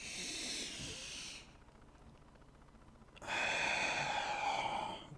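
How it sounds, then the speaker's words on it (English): Slow, deep yoga breathing: a long airy inhale, a quiet pause, then a strong hissing exhale, close and clear with no talk. "Breathing in deeply."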